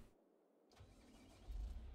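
A tractor engine starts in Farming Simulator 22: a brief silent gap, then the starter and engine catch, rising into a low rumbling idle that swells louder near the end.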